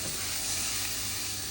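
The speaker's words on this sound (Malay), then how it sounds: "Lepas tu tumis dia sampai keluar minyak." Steady, dense sizzling of a spice paste for sambal sotong frying in hot oil, close up and continuous, with no voices.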